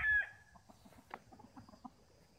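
Chickens clucking softly among pheasants, young game chicks and pigeons, one louder call at the start followed by faint scattered clucks and chirps.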